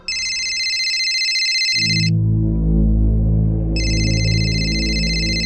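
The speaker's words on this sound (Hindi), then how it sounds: "जब किडनैपर्स का फिर से फोन आया" An electronic ringtone trills steadily, stops briefly while a low droning tone swells, then starts trilling again, loud and close.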